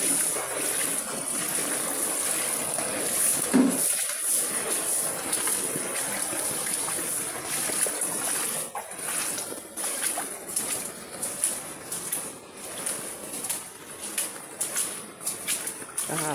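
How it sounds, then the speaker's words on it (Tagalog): Floodwater left by Typhoon Crising drains out with a continuous trickling, splashing flow, steady throughout and fairly close, with occasional quiet voices nearby. "Yan, palabas na tubig."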